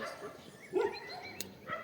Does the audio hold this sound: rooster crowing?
no